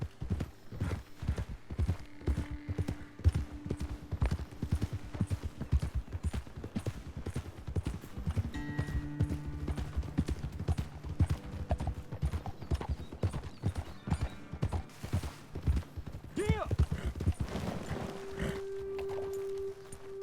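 Horse hooves clip-clop steadily over ground in Red Dead Redemption 2 as riders move along a trail, with a continuous rhythm of close, fairly loud footfalls over soft background game music.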